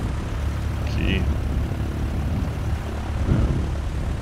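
Cessna C152 engine in Microsoft Flight Simulator, a steady propeller drone at takeoff power, loud and constant, with a voice speaking briefly over it.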